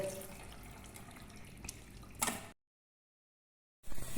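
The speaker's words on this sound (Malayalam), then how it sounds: "ഇത് വിട്ട് വരാൻ വേണ്ടിയിട്ട് കുറച്ച് പച്ചവെള്ളം ഒഴിക്കുന്നുണ്ട്" Cold water splashes over freshly cooked macaroni in a sink, a short close pour with dripping that ends in an abrupt cut to silence before the sound briefly resumes.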